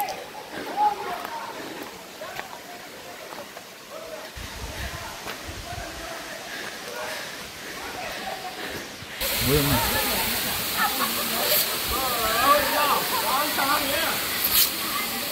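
Rushing water at Talakona waterfall near Tirupati, Andhra Pradesh, a steady broadband roar that grows noticeably louder and closer partway through, with people talking faintly underneath.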